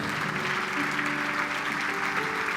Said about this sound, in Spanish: Dan un aplauso fuerte.